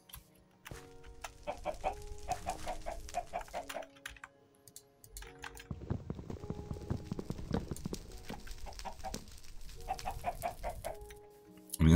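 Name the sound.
chickens clucking in Minecraft Better Than Wolves video game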